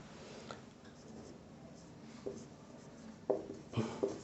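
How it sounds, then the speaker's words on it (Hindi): Chalk or pen writing on a board in a class 10 maths lesson, faint scratchy strokes under a steady room hum with a few sharper taps toward the end. "बंटन इधर हम लिख दे रहे हैं"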